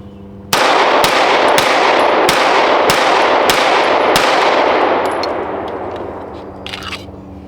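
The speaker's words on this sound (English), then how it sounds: "Let's go ahead and put some offhand rounds through it." A Springfield SA-35 pistol fires Winchester white box rounds one-handed: about nine sharp, loud shots in a steady rhythm, each ringing out with echo, followed by a fading tail and faint metallic clinks.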